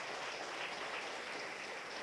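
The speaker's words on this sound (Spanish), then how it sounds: "Le damos un aplauso a nuestro eterno Salvador." A church congregation applauds as one, a faint, even wash of distant clapping that holds steady with no clear breaks.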